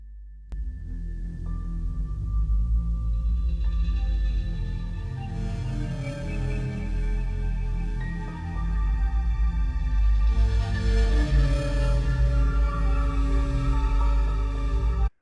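A commissioned cosmic horror theme inspired by Interstellar plays as slow, droning ambient music with deep sustained bass tones and layered swelling pads that build gradually, with no voices over it.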